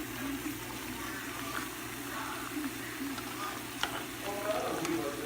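Jamaican dumplings crisping in hot oil, a steady close sizzle and crackle with a few scrapes of turning, no talk.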